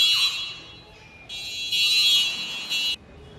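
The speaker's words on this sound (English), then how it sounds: "They're testing the fire alarm system," A fire alarm system under test sounds in loud, shrill electronic bursts: a brief blast, a pause, then two longer pulses close by.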